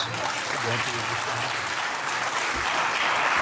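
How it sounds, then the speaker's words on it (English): Audience applause breaks out after a line in a political speech, a broad wash of clapping while a voice speaks underneath early on, ending abruptly. "They were just waiting to clap for that sentence"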